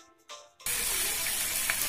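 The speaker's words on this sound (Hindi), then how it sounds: "इसमें धुले हुए चिकन को डालेंगे और इसको फ्राई करेंगे" Washed chicken pieces drop into hot mustard oil in a kadhai, setting off a sudden loud, steady hiss and crackle after a brief quiet clink, sizzling continuously to the end.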